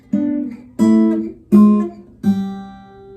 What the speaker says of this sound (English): contrary motion like that in two voices would sound like this.